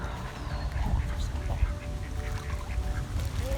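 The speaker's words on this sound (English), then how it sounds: "Why do you think they quack?" Ducks or geese at a pond quack and honk repeatedly, nearby and moderately loud, over a low outdoor rumble.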